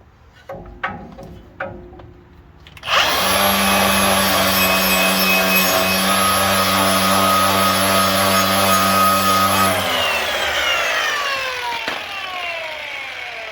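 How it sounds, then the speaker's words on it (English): Brake pads from a Ford F100 being skimmed during a brake rebuild, a few scraping strokes first, then a loud steady power-tool grind running several seconds before winding down alone. "I'm just going to skim the pads a little bit more."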